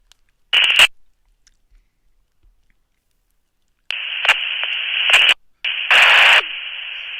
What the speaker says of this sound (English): We're going to key up the radio, and hopefully you'll hear it.